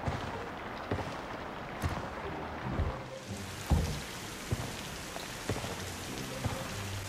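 Steady rain pours down in a first-person shooter match, a dense, continuous hiss of drops on surfaces, punctuated by occasional sharp thuds and distant gunfire-like cracks, with no talking over it.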